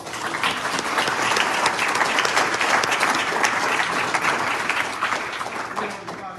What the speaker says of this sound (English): I'd suggest a round of applause for everybody involved,